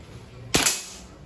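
A CO2 air gun fires one sharp, close shot that cuts through quiet outdoor room tone and fades off quickly, with no voices during the report.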